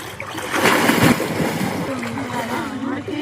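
People jump into a pond, a loud splash and churning water followed by voices shouting and talking nearby.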